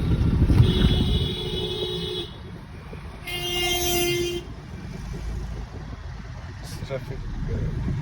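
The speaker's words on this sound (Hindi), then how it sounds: "ट्रैफिक" Street traffic rumbles steadily while car horns toot, two sustained honks early and a brief beep later, loud and close over dense road noise.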